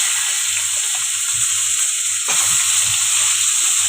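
Potatoes fry in hot oil seasoned with panch phoron and bay leaf, giving a steady close hiss of sizzling with a low rumble and a brief stronger burst midway, no voices.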